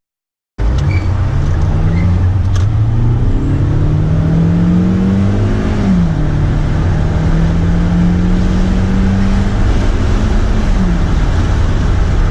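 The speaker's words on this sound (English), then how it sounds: "Sport mode and it's just going through the gears, it kind of pushes you in your seat back a little bit" A 2015 Hyundai Sonata turbo in sport mode accelerates hard through its gears from inside the cabin, the loud engine drone rising in pitch, dropping at each shift and climbing again.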